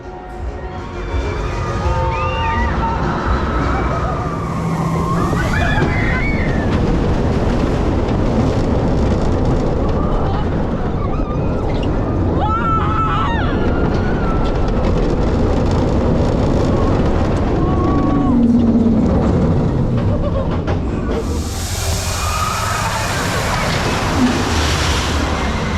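On the Stealth launch roller coaster at Thorpe Park during Fright Nights, a loud, steady roar of wind and track rushes past for the whole ride, with screams and crowd noise rising in places.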